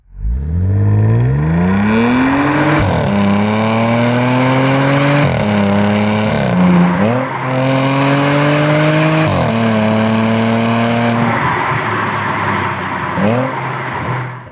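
A powerful supercharged Audi S4 engine fires up and revs repeatedly, pitch climbing and dropping in surges with a high supercharger whine, loud and close.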